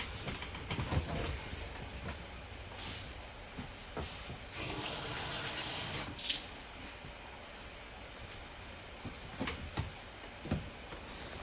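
Water runs from a tap in a steady, faint hiss, with a few louder splashes and knocks over the flow. Nobody speaks.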